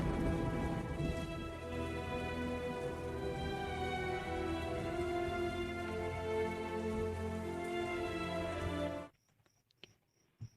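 Heavy rain pours down during a dramatic film scene, a dense steady wash blended with background music that runs for about nine seconds, then cuts off abruptly to near silence.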